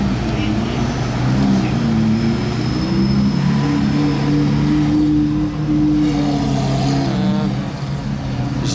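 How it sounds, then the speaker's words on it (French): Two Lamborghini Aventador SVs from Qatar with aftermarket exhausts, their engines droning loudly and continuously nearby with revving surges while people talk over them. "Deux Aventador SV et elles n'ont pas l'échappement d'origine les deux là."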